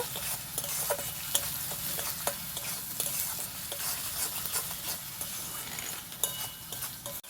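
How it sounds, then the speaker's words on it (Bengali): Egg curry stirred and sautéed in a pan, a steady close sizzle of frying with repeated scraping and clinking strokes of a spoon against the pan throughout, no voices. "ভালো করে কষিয়ে নেব।"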